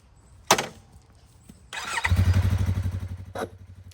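A 2024 Yamaha R3 motorcycle engine cranks and catches, settling into a steady, close idle with a rapid pulsing beat after a sharp click and a brief starter whir.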